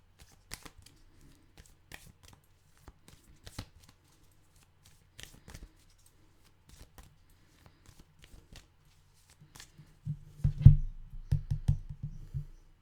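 Tarot cards are handled and shuffled, giving sparse light taps and flicks followed by a louder, denser shuffling burst near the end, close and with no voices.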